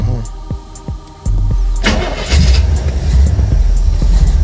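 A Chevy car engine cranking over after a fuel leak, with a few clicks and a whir before it catches and roars into a loud, throbbing, revving run, close and dominant.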